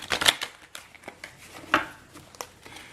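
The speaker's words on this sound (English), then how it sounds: "So I am going to shuffle these here" Circular tarot cards being shuffled by hand up close, giving soft papery riffles and crinkly slides in short uneven bursts, one louder flurry at the start and another midway, with no talking.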